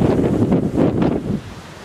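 Strong wind at force six blowing over the sea by the Åland islands, loud buffeting gusts across the microphone with a rushing roar of whitecapped waves, heard alone.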